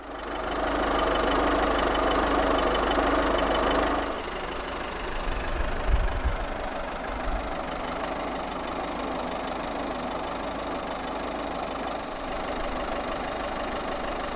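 A 2013 Peugeot 208 1.4 HDi 70 five-door diesel starts with a loud rumble, then settles into a steady, slightly knocking idle that stays close and even, with no talk.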